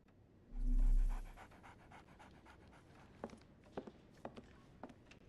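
In the PS5 game Sherlock Holmes: The Awakened, a dog pants in one short, breathy burst near the start, followed by scattered soft tapping footsteps in a quiet scene.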